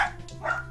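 A single short dog bark from the video game Wayward, faint and brief, heard alone with no talk.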